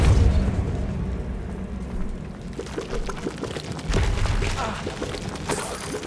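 Spell blasts in Hogwarts Legacy, a rumbling, whooshing fiery burst with a roaring, pouring texture that swells and recedes, then crackles into further impacts at moderate loudness, with no talk.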